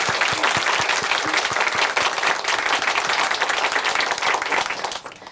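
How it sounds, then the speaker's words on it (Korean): A church congregation applauds at a Korean Christian service after a testimony, with full, sustained clapping that fills the room before it thins out at the very end. "우리를 부욕해 하신 예수님께 감사의 박수 올려드리겠습니다."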